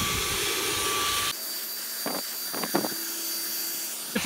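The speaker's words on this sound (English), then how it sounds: "She's just gonna vacuum up some of that in the corner there." A Dyson V11 cordless vacuum cleaner with a slim extension whines at a high, steady pitch, then drops to a lower hum while the nozzle clatters and knocks against a corner in a few short bumps.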